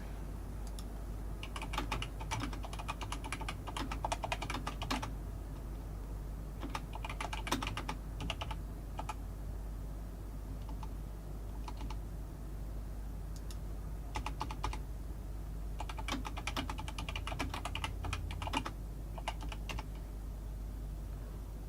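Bursts of rapid keystrokes on a computer keyboard clatter in uneven clusters with short pauses between, set against a steady low electrical hum.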